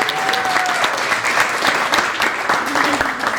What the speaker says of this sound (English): Let's give a big, big round of applause.